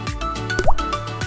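Liquid fertilizer made from dissolved rabbit or goat manure is poured onto the growing medium of a home-garden grapevine, giving a quick run of soft wet plops and drips close by.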